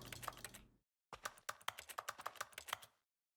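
Clicky computer keyboard keystrokes triggered on each click in The Stanley Parable: Ultra Deluxe, a short burst of taps, a pause, then a faster run of a dozen crisp clacks, close and clear.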